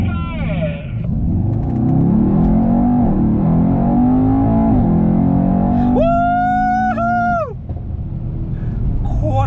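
Mercedes-AMG E63s engine roaring and revving close by, a deep rising growl that climbs in pitch over several seconds before easing off, with a voice talking over it.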